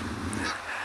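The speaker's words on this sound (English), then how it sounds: "The Egyptian geese have retaliated." Egyptian geese honking in a brief, fairly faint burst of harsh calls against background noise.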